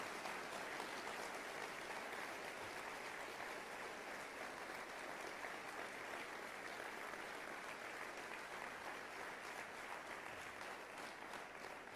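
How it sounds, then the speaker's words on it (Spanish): A church congregation claps for the Lord in a long, even stretch of dense applause, heard at a fairly low level and without speech. "Dale gloria, fuerte aplauso al Señor."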